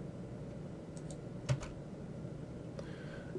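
Quiet keystrokes on a computer keyboard, a few separate taps and a sharper double click at mid-point, close and isolated against a soft room hiss.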